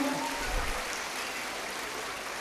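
An audience at a Tamil comedy talk claps in a dense, continuous patter, steady and moderately loud across the whole stretch, with no speech on top.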